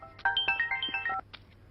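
A mobile phone rings with an incoming call in a film scene, a bright melodic ringtone of quick rising and falling tones lasting about a second, then a short pause and one more note, close and clear.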